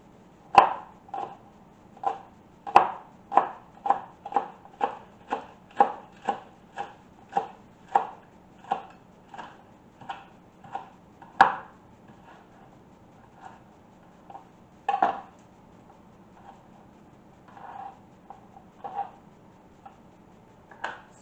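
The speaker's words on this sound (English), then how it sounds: "I'm going to slice up my green onions." A knife slices green onions on a cutting board in quick, even chops. A steady run of crisp taps is followed by a short pause and then a looser, slower set of cuts, heard up close with no voice.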